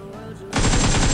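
In PUBG Mobile, a sudden loud burst of automatic pre-fire breaks a quiet moment and runs as rapid, tightly packed shots for about half a second.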